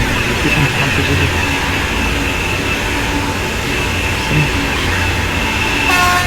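A TGV Duplex high-speed train in Train Sim World 4 on the LGV Méditerranée runs with a loud, steady rolling rumble and hiss throughout, with a brief tonal chime near the end.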